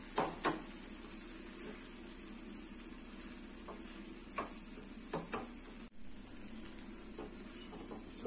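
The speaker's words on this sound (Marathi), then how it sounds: "सो दोन्ही साईडनी आपण छान असा पाव भाजून घेणार आहोत।" Pav bread toasting on a hot pan for masala pav gives a faint, steady sizzle, with scattered soft scraping and tapping of a spatula against the pan.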